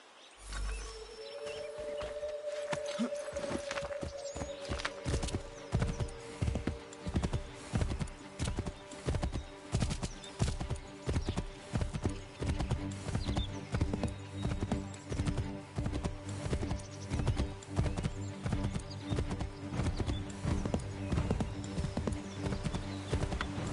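A horse gallops in Assassin's Creed III Remastered with steady, driving hoofbeats over a low rumbling bed, a brief neigh or tonal cry at the start, no speech.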